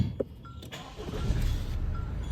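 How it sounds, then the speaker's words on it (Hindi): A car's engine is started with a push start button and settles into a low steady run, alone and fairly quiet, with a brief click at the start. "ये हो गई गाड़ी ऑन हमारी"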